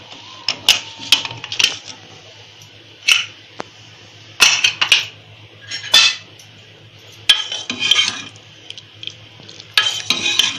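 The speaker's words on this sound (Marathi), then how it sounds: "आता आपण झाकण खोलून बघूया" Metal clanks and scrapes as the lid comes off a cooled pressure cooker of matki (moth bean) curry, a series of sharp, close clatters in irregular bursts with quiet gaps, no voices.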